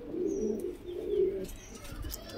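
Pakistani pigeons, including an old red-flower bloodline, coo in a loft in Joynagar, two rolling low coos close by, with faint chirps from other birds in the background.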